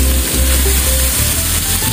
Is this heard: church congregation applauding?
no